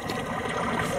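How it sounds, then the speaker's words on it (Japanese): A babbling river stream, a continuous soft wash of running water that holds steady and even throughout, fairly quiet and with no voices over it. "川のせせらぎ"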